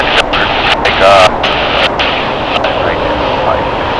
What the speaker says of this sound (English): runway 25 right, clear for takeoff